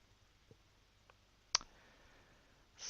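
A single sharp computer mouse click stands out in a quiet room, preceded by a few faint ticks and followed by a soft rising rustle at the very end.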